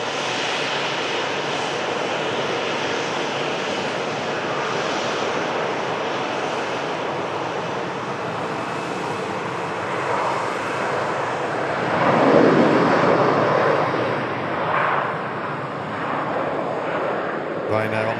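A Ryanair jet airliner on its takeoff roll toward Dublin gives a steady, fairly loud engine rumble that swells briefly near the end, while people talk over it.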